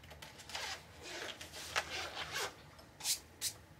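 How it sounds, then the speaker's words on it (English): Zipper on a marker case for Ohuhu acrylic paint markers being pulled open, a series of soft scratchy rasps close by, ending with two short sharper zips. "But they are in this really nice zipper case."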